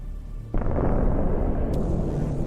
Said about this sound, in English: Look at this hit and the explosion from another drone that was adjusting the artillery fire.